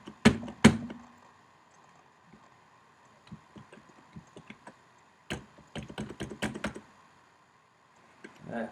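Keys struck on a computer keyboard while configuring a Cisco switch, with a couple of loud thumps at the start, then scattered light taps and a quick flurry of typing, close up.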